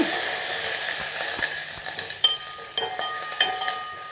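Steady crackling sizzle of spices frying in hot ghee, with a few soft utensil scrapes and stirring clicks over the top.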